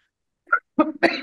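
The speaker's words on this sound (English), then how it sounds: "Strange, I'm coughing." Three quick coughs sound in close succession, near and fairly loud, with silence before them.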